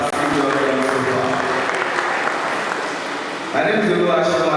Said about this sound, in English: a round of applause for your fantastic work done so far